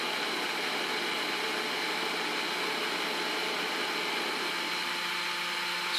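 A brushless DC motor spins a CD at 12,000 RPM, making a steady high-pitched whine with a constant airy rush and faint tonal hum that holds evenly from start to finish.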